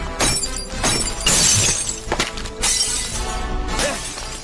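Loud, close shattering and crashing as things are smashed by thrown stones, with several bursts of breaking glass and debris in quick succession.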